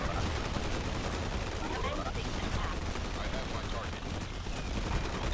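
Units in the real-time strategy game Forged Battalion concentrate their fire, producing a dense, continuous rattle of gunfire and battle noise that stays steady and fairly loud throughout.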